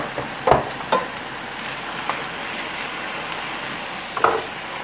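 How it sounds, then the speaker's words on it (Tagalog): Chicken pieces stirred into cooked onion in a pan for creamy chicken pasta, a soft steady sizzle with a few distinct scrapes and knocks of the utensil against the pan. "pag naluto na yung onion, pwede na natin ihalo yung chicken natin"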